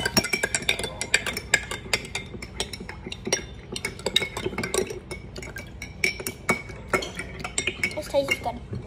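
Food being mixed in a bowl, with a steady run of clinking spoon-on-dish taps and scraping strokes, close and fairly loud, continuing without pause.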